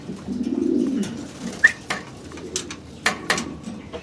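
Fancy Roman pigeons coo softly nearby, a low murmuring coo followed by several short calls and light clinks, with no talking.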